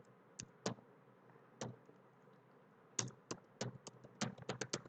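Keystrokes on a computer keyboard while typing code in an Angular tutorial, a few isolated clicks early on, then a quicker burst of close, crisp taps toward the end over a quiet room.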